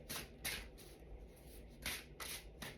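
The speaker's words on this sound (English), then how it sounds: "I'm going to just shuffle a little bit" Tarot cards being shuffled by hand, close and soft, with several quick riffling bursts and papery rubbing between them in a quiet room.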